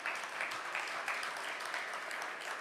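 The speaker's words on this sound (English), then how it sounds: "I love a warm round of applause first thing in the morning" Conference audience at a transportation trade show morning session giving a warm round of applause, dense steady clapping heard from a short distance, without voices.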